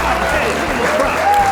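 A studio audience on a talk show breaks into steady applause, a dense wash of clapping filling the room, with a voice talking over it.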